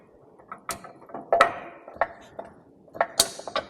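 A car jack stand clicks into place with a series of sharp metallic ratchet clicks and clanks, close and distinct, irregularly spaced with brief quiet gaps between them.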